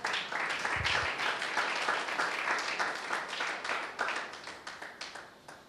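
Sustained applause from an audience, dense clapping that gradually thins and becomes more scattered toward the end.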